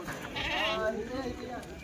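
Goats for sale at a crowded livestock market let out a short, close bleat amid busy background talk.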